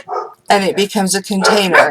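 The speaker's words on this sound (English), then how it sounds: "They don't usually bark like this." Dogs bark indoors in sharp, repeated bursts with yips, loud and close, while a person talks over them.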